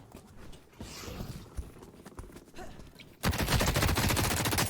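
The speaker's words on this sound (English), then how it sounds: "So I blow half the 20 bullets into it." Gunfire in the video game The Cycle Frontier, faint scattered shots at first, then a loud sustained burst of rapid automatic fire in the final second and a half.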